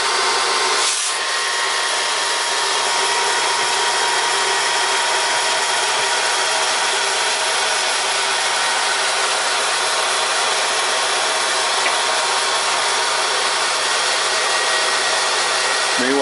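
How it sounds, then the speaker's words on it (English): Hot air popper running steadily with popcorn kernels inside, a loud, even fan-driven whoosh that holds almost unchanged from start to finish with no voices over it. "I'll flip the lid and let the kernels drop into the hot air popper."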